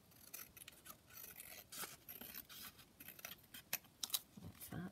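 Scissors trim craft paper in quiet, close snips and rustles, irregular cuts scattered over a few seconds at low volume with no one talking.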